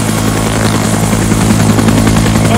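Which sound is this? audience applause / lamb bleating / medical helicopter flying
medical helicopter flying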